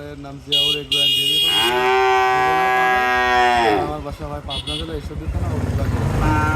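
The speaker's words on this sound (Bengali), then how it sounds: "চলুন গরুগুলো আমরা এক এক করে দেখাই" Holstein Friesian bull calves on a dairy farm let out a loud, close, long moo, with shorter calls around it. People talk nearby as the calling fades.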